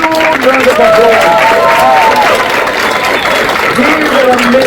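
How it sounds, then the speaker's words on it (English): An audience at a youth leadership summit breaks into sustained applause with some cheering, a dense wash of clapping from a large crowd while voices carry over it. "can we give them a huge round of applause?"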